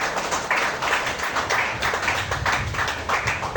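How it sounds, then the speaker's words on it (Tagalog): A congregation claps together during a church sermon, producing dense, rhythmic bursts of many hands at a steady beat that fill the room for several seconds. "Pumalakpak po lahat ng mga anak ng Diyos."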